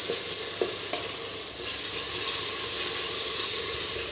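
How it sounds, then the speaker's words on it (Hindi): Chopped onions frying in a pan for mutton paya salan while being stirred, a loud continuous sizzle with occasional scraping strokes of the spoon. "अब मैं इसको अच्छी तरीके से भूनूंगी और थोड़ा ब्राउन करूंगी।"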